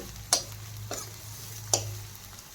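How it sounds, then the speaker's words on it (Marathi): Veg manchurian with capsicum sautés in a pan, a low steady sizzle broken by three sharp metallic taps of a spatula against the pan, no one speaking. "आता मी छान परतून घेणार आहे थोडंसं लालसर शिजवायचं आहे"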